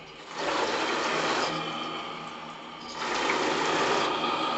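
A live-steam engine in a model boat, a Krick Alexandra kit, runs up to full throttle on the water with a steady hissing, chuffing rush that swells, eases slightly, then surges louder again, close and continuous.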